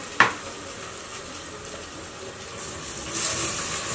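Vegetables dropped into a hot pan with rabbit meat, giving a short sharp hit followed by a soft, steady sizzle of frying that grows gradually louder, with no talk.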